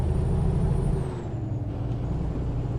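A heavy cement truck in American Truck Simulator rumbles past with a low, steady engine drone and a brief hiss like an air brake. The pass is loud at first, then eases slightly and stays close and continuous, with no talking.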